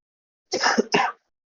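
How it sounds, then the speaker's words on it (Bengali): Two quick, harsh throat-clearing coughs in a row, close and fairly loud, with silence before and after. "কাশি আসতেছে অনেক"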